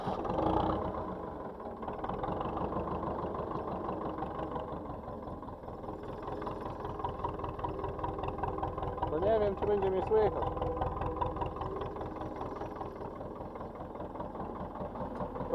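An Ursus C-360 tractor engine idles steadily with a low, even rumble in a snowy farmyard, close by and continuous, with someone talking over it.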